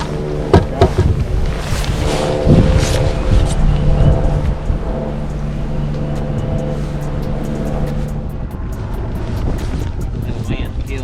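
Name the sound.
strong wind blowing on a lake while bass fishing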